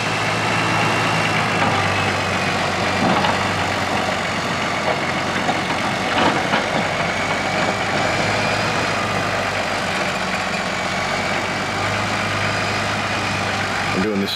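A Toyota turbo diesel engine fitted in an earthmover idles steadily close by, a constant low rumble with a faint whine that holds unchanged throughout, with no talking over it.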